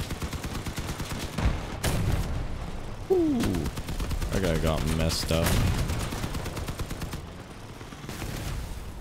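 Vehicle-mounted cannons fire in the combat video game Crossout, with repeated booming shots mixed into ongoing battle noise while a player talks over it.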